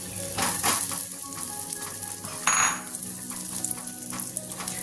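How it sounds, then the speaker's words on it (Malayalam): Chopped coconut frying in ghee in a pan makes a steady close sizzle with crackles, plus a brief louder hiss near the middle as it is stirred. "അഞ്ച് സ്പൂൺ നെയ്യ് ഞാൻ ഒഴിച്ചു കൊടുത്തിട്ടുണ്ട് അതിലേക്ക് തേങ്ങ അതേപോലെ അരിഞ്ഞത് ചേർത്ത് കൊടുക്കാം"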